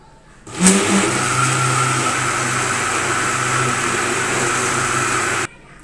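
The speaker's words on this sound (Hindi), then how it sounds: "250 ग्राम दूध ऐड करेंगे। और दोबारा से अच्छे से ब्लेंड कर लेंगे।" A blender whirs steadily as milk is blended into mango lassi, its motor loud and continuous for about five seconds before stopping abruptly.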